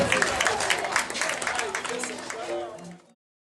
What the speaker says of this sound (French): qu'on demande une fois d'applaudir